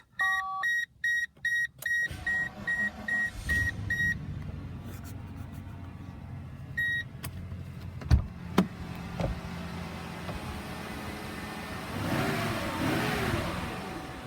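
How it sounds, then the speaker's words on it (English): Several quick electronic chimes, then a 1997 Mercedes-Benz E420 (W210) engine cold-starts, cranking and catching, settling into a steady idle that swells slightly as it revs. "We'll do a cold start, maybe, if it'll start."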